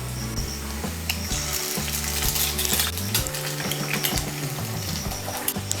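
Eggs sizzle and spatter steadily in hot oil with fried onion and chilli in a pan, a loud continuous fry with stirring scrapes and no talk.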